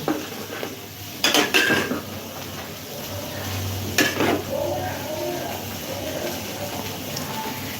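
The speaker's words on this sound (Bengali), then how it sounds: "আমি এখানে ভাজছি বেগুন ভাজা" Brinjal slices fry in a pan, a soft, steady sizzle running beneath a few sharp clinks of a utensil against the cookware.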